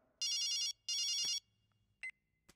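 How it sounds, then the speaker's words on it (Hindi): A telephone rings in two bright electronic bursts, followed by a couple of short beeps, fairly quiet and alone. "किसका फोन बज रहा है?"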